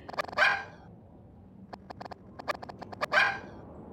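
A dog in Giraffe Town barks twice, loud and close, with light pattering footsteps or yips in between and no talking.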